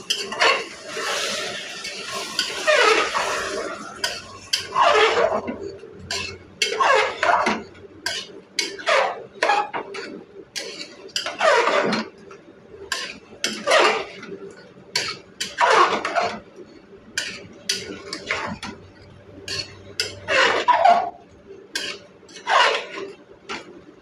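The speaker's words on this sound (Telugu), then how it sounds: "చికెన్ ముక్కలు వేసేసుకోవాలి వీటిని బాగా కలుపుకోవాలి" A spoon scrapes and clanks against a metal pot as chicken pieces for a Telugu chicken pulusu (tamarind curry) are stirred, with repeated rhythmic knocks and clinks close up, no talking.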